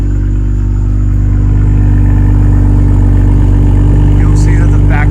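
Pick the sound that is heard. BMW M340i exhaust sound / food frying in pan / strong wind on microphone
BMW M340i exhaust sound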